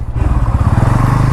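A 2024 Bajaj Pulsar N160 motorcycle engine thrums close by in a low, steady pulsing beat as the bike is ridden slowly and turned on a narrow road.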